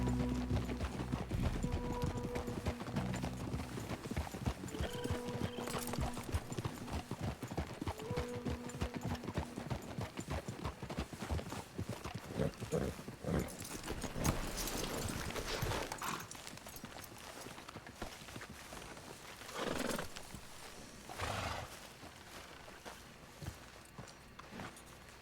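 Horse hooves clip-clop steadily as a rider travels in Red Dead Redemption 2, a close, regular walking rhythm of hoofbeats with occasional bridle jingles and a brief snort, continuing throughout.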